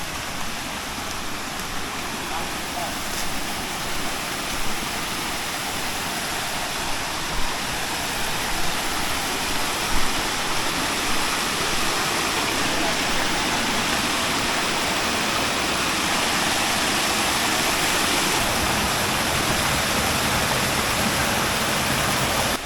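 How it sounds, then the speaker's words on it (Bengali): Chingri Jhorna, a waterfall near Ruma in Bandarban on the trail from Boga Lake to Keokradong, roars as a steady broadband rush of falling water, loud and close, unbroken throughout. "আমরা কিন্তু ঝর্ণায় প্রায় চলে এসেছি ওই যে দেখা যাচ্ছে"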